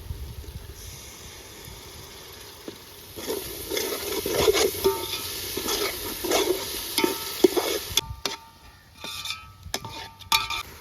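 Spoon stirring yogurt into frying masala in a sizzling pan, wet scraping and clinking over a steady hiss of frying, with a few sharper knocks against the pot.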